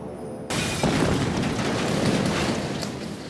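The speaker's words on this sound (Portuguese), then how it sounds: "Nosso teste reproduziu fielmente a explosão." A reconstructed bomb blast set off as a tabletop test: a sudden loud boom erupts and then a broad, rumbling roar lingers and slowly fades, with no voices.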